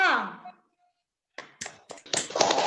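A classroom of children performing the Tepuk PPK clapping chant, a voice followed by a short pause, then sharp rhythmic bursts of claps and young voices in a quick patterned sequence.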